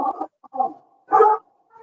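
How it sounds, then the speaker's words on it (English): Dog in a bookstore giving a few short, separate bark-like yelps, moderately close in an otherwise quiet room. "Is that a dog?"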